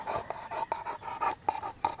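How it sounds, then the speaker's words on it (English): A dog pants close by in quick, rhythmic breathy puffs, about a dozen in two seconds, soft and raspy with no talk. "And you can hear Winston breathing."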